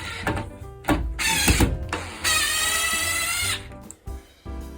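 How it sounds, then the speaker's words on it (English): A power drill drives a larger anchor screw through an interior door hinge, with short bursts of whirring motor and ratcheting clicks between pauses and handling knocks, close and fairly loud. "We'll remove this center screw on the hinge right there, and I'll replace it with a bigger anchor screw."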